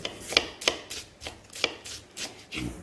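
A knife chops onion finely on a cutting board, about eight crisp, uneven strokes close by, with no talking.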